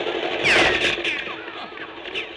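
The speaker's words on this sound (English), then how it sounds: "Those bullets are too close for company." Gunshots and bullets whizzing in an old radio drama, a sharp burst with ricochet-like whines near the middle, fading into a few lighter reports against a steady background hiss.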